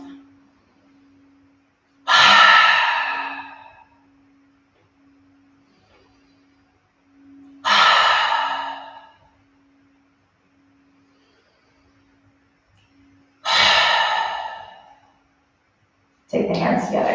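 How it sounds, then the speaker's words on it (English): Three slow, deep cleansing breaths, each a big inhale followed by a long audible exhale through the mouth, close and spaced several seconds apart over a soft steady hum, with a fourth breath beginning at the end. "3 cleansing breaths, a big inhale and then an exhale through the mouth"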